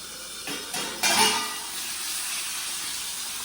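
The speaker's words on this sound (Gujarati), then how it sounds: "જો એને બાફી લીધા છે તો હવે મમ્મી વઘાર કરે છે." Oil crackling as a tempering is made for boiled dal, with a soft steady sizzle and hiss plus a few brief louder bursts near the start, close by, with no talk.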